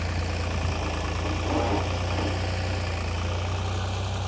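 A tractor engine runs steadily while pulling a landscape rake, a constant low rumble with a slight swell midway, loud and close, with no voices.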